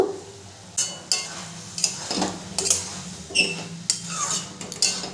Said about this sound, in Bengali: 5 মিনিট পর ঢাকনাটা আমি তুলে নেব।